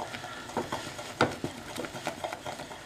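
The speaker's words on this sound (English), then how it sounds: "Can you see the marshmallows is all melted that I keep stirring around?" Melted marshmallows stirred in a pot, soft irregular scraping and sticky swishing strokes at a moderate pace, close and fairly quiet.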